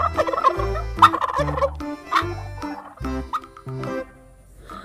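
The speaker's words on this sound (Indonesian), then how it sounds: "Lihat, ini ada ayam kalkun." Repeated loud turkey gobbles, rapid rattling bursts one after another at close range, with no talk.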